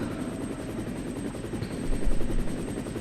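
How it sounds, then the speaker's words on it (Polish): Rapid rhythmic thudding of helicopter rotor blades with a whining engine tone as a helicopter approaches in the PlayStation game Resident Evil, steady and moderately loud, swelling slightly partway through. "Lecą nasi, już słychać helikoptera."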